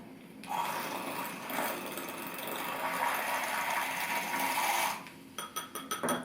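A small electric whisk buzzes steadily for several seconds while it mixes herbal powder into a drink, then stops, followed by a few quick light taps.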